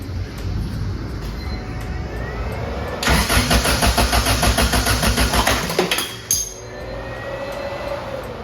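A Honda Civic with a B20 engine swap cranks over with its distributor unplugged, giving about three seconds of loud, rapid, rhythmic starter churning that never catches, with quieter background noise before and after.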